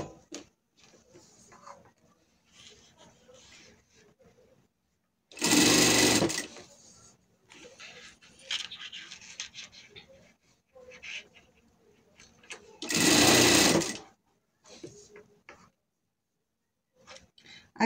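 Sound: sewing machine stitching surgical garment piece

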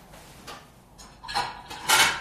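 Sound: plates and dishes being taken out

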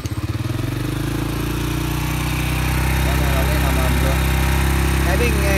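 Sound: electric motorcycle started up running

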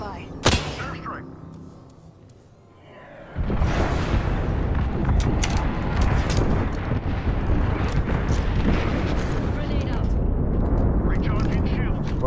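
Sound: airstrike explosions in Apex Legends video game

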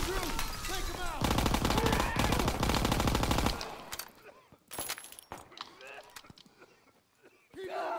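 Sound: PPSh gunfire in the video game Call of Duty: WW2

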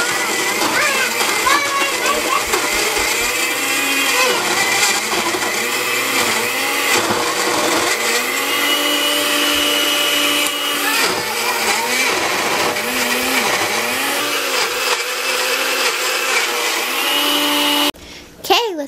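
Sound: blender making blueberry smoothie

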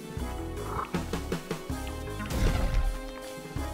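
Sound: frog croaking in the video game Spelunky

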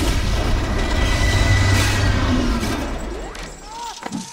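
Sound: explosion accident during lab experiment

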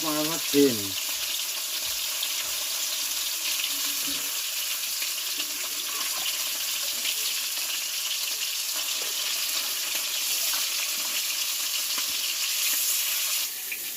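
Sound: fish frying in oil

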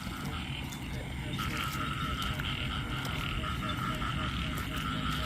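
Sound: frogs croaking

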